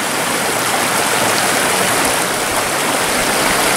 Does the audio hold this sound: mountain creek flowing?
yes